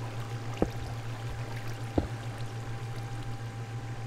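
A water stream flows steadily in the Minecraft video game, a constant low rushing pour with a couple of soft clicks, heard alone without talk.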